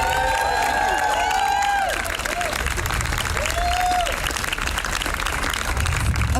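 A crowd at an outdoor Washington DC rally applauds steadily and cheers for John Kiriakou, dense continuous clapping with scattered whoops and shouts, loud and close throughout.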